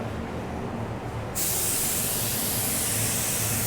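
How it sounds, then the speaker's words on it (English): A cheap spray gun atomizing paint bursts into a loud, steady hiss partway through, continuing evenly over a low background rumble. "it's atomizing the paint just fine"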